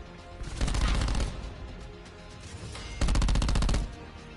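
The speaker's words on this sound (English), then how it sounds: "I hate that SMG. It needs some recoil." An SMG fires in Black Ops 4 in two rapid automatic bursts of close, loud shots, with a quieter stretch between them.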